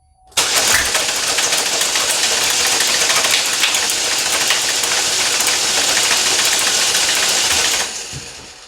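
A 2012 Chevrolet Malibu engine cranks continuously with the throttle held wide open while being diagnosed for a P0341 fault, giving a loud, steady, buzzy churn for about seven seconds before cutting off abruptly.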